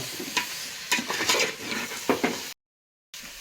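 A spoon scrapes and stirs country chicken meat through a thick, sizzling masala gravy in a pan with repeated strokes, then a brief silence before the sizzling returns.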